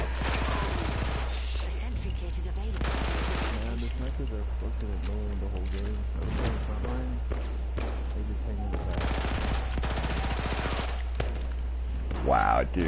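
Trench gun and other weapons firing in Battlefield 1, with repeated loud shots and rapid bursts over a constant low hum, while voices chat over much of the gunfire.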